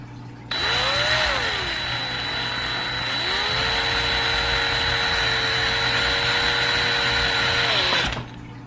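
A vacuum cleaner switches on and roars steadily for about eight seconds, sucking dust from a Canon G7X Mark II camera lens, its whine dipping briefly, then cuts off abruptly.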